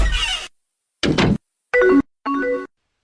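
The AOL Instant Messenger door sound effect: a brief creak-like swoosh, then a wooden door opening and a door slamming shut, four distinct short bursts about half a second apart, clear and alone with no talk.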